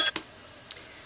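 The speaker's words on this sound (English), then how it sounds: "That was my phone." A mobile phone notification sounds as one brief, faint electronic beep at the very start, followed by a soft click in a quiet room.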